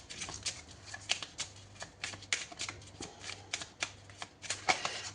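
Tarot cards handled and shuffled close up, a quick series of soft papery riffles and snaps in uneven bursts, fairly quiet, with no talking.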